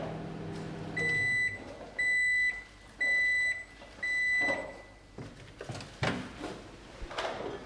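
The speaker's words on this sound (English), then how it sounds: "taking the contents to the microwave" A microwave oven hums and four loud beeps sound in a row at a steady pace, followed by clunks and rustling like a door opening, while heating agarose gel in a lab flask.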